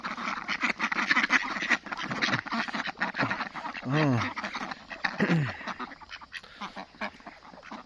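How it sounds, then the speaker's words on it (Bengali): A group of ducks climbing out at feeding time quacks in loud, close bursts, with a nasal honking call standing out midway, mixed with splashing and a person speaking. "কীভাবে উঠতেছে হাঁসগুলা, ভালোই লাগতেছে"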